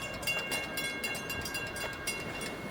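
An FEC freight train rolls past steadily, a broad continuous rumble and rattle of cars with no talk over it.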